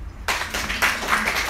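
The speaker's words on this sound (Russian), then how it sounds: "Аплодисменты." An audience bursts into applause at a talk, a loud, dense clapping of many hands that starts abruptly and carries on steadily.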